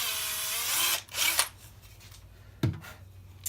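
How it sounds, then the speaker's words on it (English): Small power drill boring a hole through a wooden block for a shorebird carving's bill, a steady whirring burst up front, then a brief second spin, with quiet pauses between and a short knock near the end. "since I use a smaller drill"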